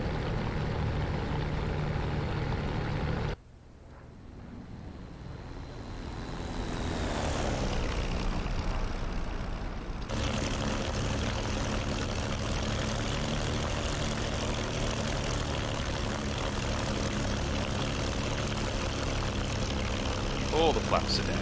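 Propeller aircraft engine in a flight video game on final approach about 100 meters up, a steady droning roar that briefly drops away then swells back to a continuous hum as a voice talks over it.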